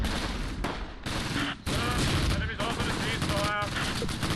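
Close Combat wartime battle sounds: bursts of machine gun fire rake advancing infantry near a tank, sharp repeated cracks and rattling volleys layered over a dense, loud combat din with a brief lull midway and faint voices underneath.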